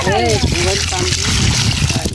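Water splashes and trickles as it is poured during village fish catching in a fish enclosure, close and continuous, while people talk loudly over it.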